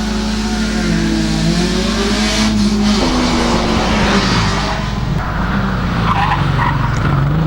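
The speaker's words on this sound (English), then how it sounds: "Steve Harverlack now in the LJ Tirana making his way around the hairpin." Classic Australian race car at a lakeside hillclimb rounding the hairpin, loud and close, with the engine note dropping and rising and tyres skidding and squealing through the bend.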